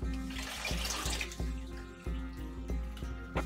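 Water pours from a tap into a pot of peeled, sliced potatoes, a steady close splashing rush broken by several sharp knocks and clunks of the pot.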